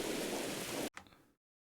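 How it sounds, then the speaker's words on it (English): Steady hiss of heavy rain in the horror game Mothered, loud and dense for most of the moment, then cutting off abruptly and followed by a brief faint tail before silence. "The rain is so loud, your soul is wet."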